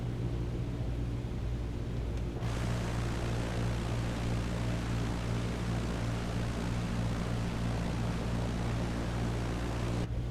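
A simulated Cessna 152 propeller engine drones steadily in Microsoft Flight Simulator 2020 on base approach to runway 27, a continuous loud hum with a slight shift in tone early on, heard alone without speech.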